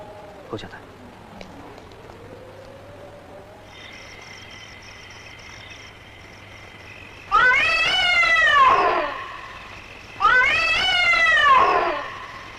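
Two long, loud drawn-out cat meows, close by, after a stretch of quiet room tone with a faint steady hum, in a horror movie.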